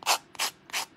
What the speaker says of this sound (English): we'll just sand off the edges real quick